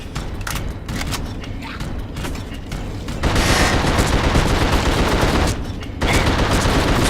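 Gunfire in The Suffering video game: dense, rapid bursts of shots that grow louder and heavier partway through, continuous and harsh at close range with a brief lull before resuming.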